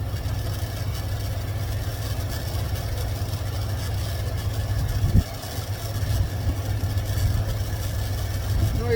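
A 1984 tow truck's engine idles nearby with a steady, deep, low rumble and a slight uneven lope, holding a constant level throughout.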